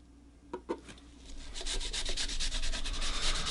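Yellow stain rubbed by hand onto an unsanded quilted maple guitar body: a couple of soft taps, then a continuous close scrubbing swish with a steady back-and-forth rhythm, moderately quiet and with no talking.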